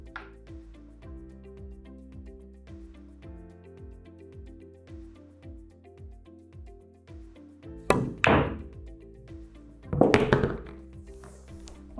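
A pool bank shot with the cue ball banking the 9-ball: a few sharp, close knocks and clacks, two of them standing out loudly near the end, over steady background music.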